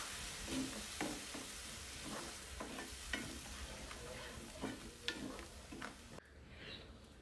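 A spoon stirs tomato paste and a ground chana paste together in a hot pan, with a steady low sizzle and scraping strokes repeating close by, ending in a softer hiss.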